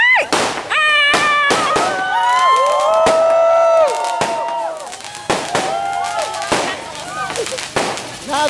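Fireworks crackle and bang in quick bursts at close range, with whistling rockets rising between sharp pops while a crowd shouts and cheers around them.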